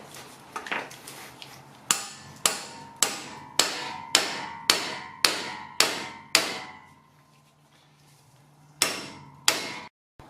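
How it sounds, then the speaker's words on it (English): Metal hammer blows on a pickle fork wedged at a VW Mk1 Cabriolet tie rod, a steady series of about a dozen sharp ringing clanks, close and loud, with a pause before two final strikes. "give the pickle fork a shot one more try on that tie rod"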